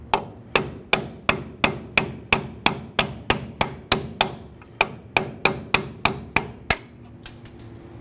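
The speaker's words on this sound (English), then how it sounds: "You can use a hammer and punch if needed." Steady metallic hammer strikes on a punch driving out a part while replacing upper control arms on a Ford Ranger, about sixteen evenly spaced blows, sharp and close, then quiet.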